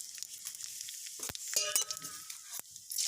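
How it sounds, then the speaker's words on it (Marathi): Cumin seeds and curry leaves hit hot oil in a kadhai for an egg curry, giving a bright, continuous sizzle and spatter with occasional sharp clinks of a stirring spoon against the pan. "जिरे आणि कढीपत्ता टाकून त्याला फोडणी देऊया."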